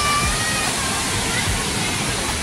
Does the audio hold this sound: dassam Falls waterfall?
yes